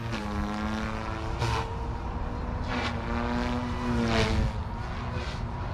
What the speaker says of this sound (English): So now we're going to turn it up into a high head speed.